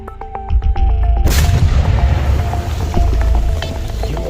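A coconut-shaped firecracker explodes underwater in a hole in a frozen pond, blasting mud from the bottom: after a second of quieter sound comes one heavy, muffled boom, followed by loud churning rumble.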